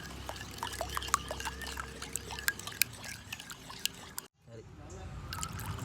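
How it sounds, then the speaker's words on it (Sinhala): Lukewarm water poured into a bowl of Nestomalt pudding mix with a faint trickling, splashing stream that stops briefly and then resumes, as a voice speaks over it. "ඊට පස්සේ මද රස්නේ වතුරින් මේක හොඳින් කැට නැති වෙනකන් කවලම් කරගන්න ඕන"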